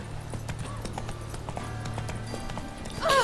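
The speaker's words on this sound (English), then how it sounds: "There's a freaking horse coming through" A horse from the Witcher 3 video game gallops with steady rapid hoof clops over a low background hum, ending in a short neigh-like whinny.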